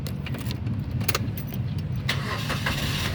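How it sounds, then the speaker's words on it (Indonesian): A manual 2014 Suzuki Karimun Wagon R 1.0 GL is started, with a key-jangle rattle and crank giving way to a steady engine idle, recorded close with no talk. "sekarang kita coba nyalakan mobil."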